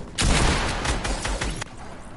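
Several loud, sharp gunshots fire in quick succession in a shooter video game, a close, punchy burst of cracks and booms lasting under two seconds.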